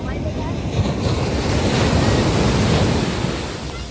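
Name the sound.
large ocean waves crashing on the shore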